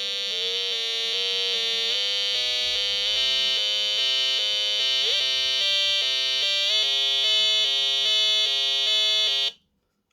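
A bright, buzzy electronic tone from a sound processor circuit built on a breadboard kit holds steady and loud, stepping up in pitch in small increments, then cuts off abruptly near the end.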